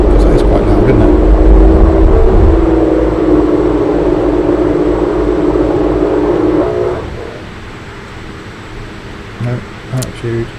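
Loud mechanical whirring hum of a Pilatus PC-12's landing gear retracting in the X-Plane 11 flight simulator, steady for several seconds over engine drone before cutting off abruptly, leaving quieter cabin noise and someone talking.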